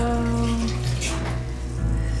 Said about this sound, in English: I have to add a cover with filtered water